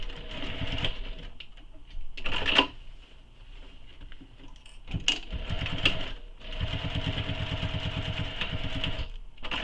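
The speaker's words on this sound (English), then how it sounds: "I'm going to base stitch the top edges here together" Sewing machine running in bursts while base stitching the top edges of a fabric tote bag together, its motor whirring through several close, steady runs separated by short pauses.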